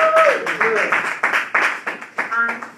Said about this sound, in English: let give a warm round of applause